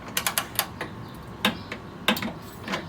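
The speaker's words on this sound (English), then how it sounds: "Tighten the 12mm bolts down to 16 pound-feet." A ratchet tightens 12 mm bolts on a 10th-generation Honda Civic during an A/C condenser replacement, giving quick runs of sharp metallic clicks in short bursts, close and fairly loud.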